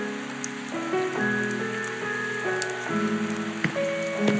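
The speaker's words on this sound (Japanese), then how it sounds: "ひどい雨。" Heavy rain falls steadily and densely on surfaces in an animated scene, forming a continuous hiss under a soft sustained musical tone, with no voices.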